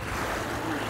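Fast river current in an Alaskan valley rushes in a loud, continuous, close-up broadband roar with no break.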